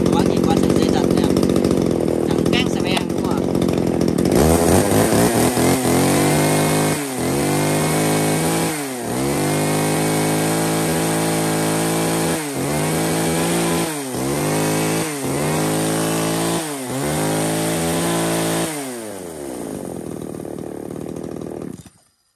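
A used Japanese-market Makita chainsaw is pull-started with a few cord rips, then catches and runs loudly. Its engine revs up and down in repeated bursts before cutting off abruptly. Someone talks in the background.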